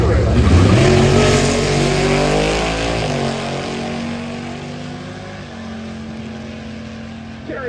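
Drag strip run with a VW Sandrail dune buggy and a 1967 car: a loud engine revs up with rising pitch, then settles into a steady drone that fades as the car pulls away down the track.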